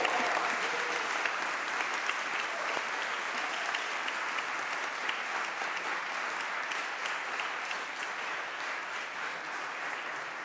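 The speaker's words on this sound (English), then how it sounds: "let's give him a big clap" Warm, steady audience applause at a conference session, honoring a parliamentary assembly member on his birthday; dense clapping from a large crowd continues evenly for about ten seconds with no speech.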